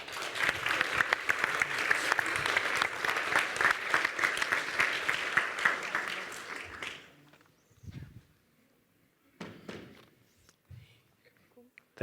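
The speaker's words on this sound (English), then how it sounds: "So please give him a big hand of applause." An audience at a symposium keynote applauds loudly and steadily for about seven seconds, then the clapping stops abruptly, leaving near silence with a few faint thumps and rustles.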